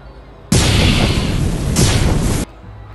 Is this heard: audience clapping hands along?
no